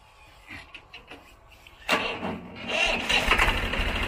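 A Swaraj 855 tractor engine cranks and catches about halfway through, then runs loud and rough close by after a quieter stretch of faint background sounds.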